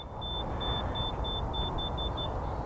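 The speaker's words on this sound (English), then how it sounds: "Has got a data tool alarm," Rapid series of about eight short, high electronic beeps from a Datatool alarm on a Yamaha FJR 1300 motorcycle as the ignition is armed, evenly spaced over a steady low background rumble.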